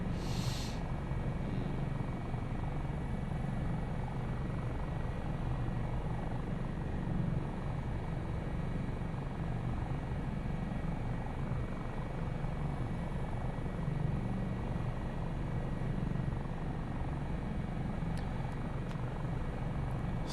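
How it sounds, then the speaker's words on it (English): A helicopter in flight gives a steady, droning engine whine and rotor thrum that holds constant and fairly loud throughout, with no voices over it. "still takes some time getting used to flying a helicopter that you can go hands off with"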